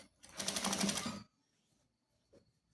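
A sewing machine runs a straight seam on fabric for a crib headboard, a fast rhythmic buzz of stitching for about one second, close and fairly loud, then stops, leaving near-silence with a faint knock.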